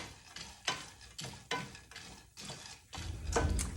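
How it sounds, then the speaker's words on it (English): Spices and orange zest are stirred together in a bowl with a spoon, making soft, rhythmic scraping strokes that repeat roughly every half second, close and fairly quiet. "I'm just stirring that together here in the bowl"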